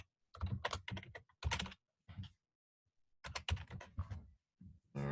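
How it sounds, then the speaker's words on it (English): Someone types a web address on a computer keyboard, producing quiet, close clusters of rapid key clicks separated by short pauses, with no talking. "let's just actually type into the site directly."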